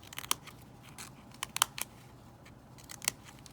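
Scissors snip through paper spikes for a craft in quick, sharp, close cuts, several clustered snips spaced across a quiet background.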